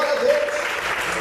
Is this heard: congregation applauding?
yes